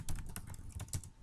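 A computer keyboard clatters in a quick, close burst of about eight keystrokes, soft and fairly quiet with no talking.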